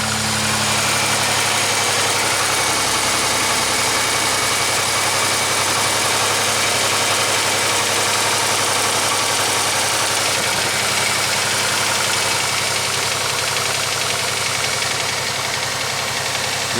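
A Pontiac Grand Am engine idles steadily and evenly for the whole stretch, a constant close mechanical hum with no revving or voices over it, running just after work on its fuel pressure regulator.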